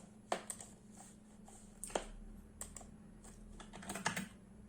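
Keys tapped on a computer keyboard while entering a number in a design program, a few quick irregular clicks and short bursts close to the mic over a low steady hum, no one talking.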